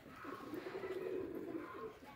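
A pair of show pigeons, a male and a female, giving a soft, low, drawn-out coo that swells and fades over about two seconds, faint and close with no talk.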